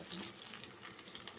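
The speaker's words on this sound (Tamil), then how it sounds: "பாதி அளவுக்கு வெங்காயம் வதங்கினா போதும்" Onion and green chilies sautéing in a pan for carrot, drumstick and bottle gourd sambar, a steady close sizzle and frying hiss with faint stirring, no talk.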